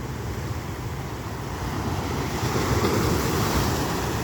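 Sea waves washing onto the shore at a beach in Tigbauan, Iloilo, a steady roaring surf with wind buffeting the microphone, growing slightly louder toward the end.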